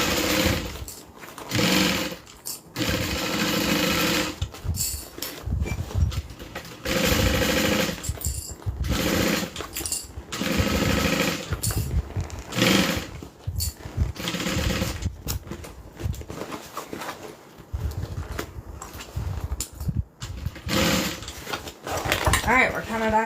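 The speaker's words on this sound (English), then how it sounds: "I just have to turn it while I sew." A sewing machine stitches a seam on a custom sewing order in repeated rapid mechanical bursts, starting and stopping as the fabric is turned, each run a loud, close, buzzing chatter.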